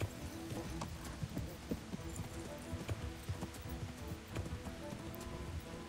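Horse hooves clip-clop steadily on the ground in the video game Kingdom Come Deliverance, a busy run of close, quick footfalls over a faint rain-like wash, with no talk.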